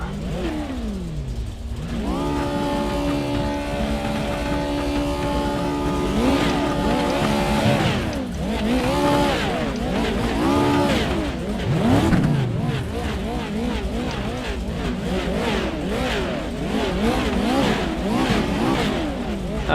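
Race car engines in the iRacing sim racing game roar continuously, their pitch climbing and dropping again and again through repeated gear shifts, with layered cars overlapping at loud, steady volume.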